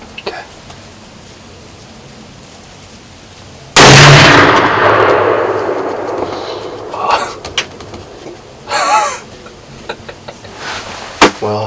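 A single loud rifle shot cracks out at a whitetail buck during an evening Midwest deer hunt. It rings and decays over several seconds in the open air, and faint rustling and small clicks follow.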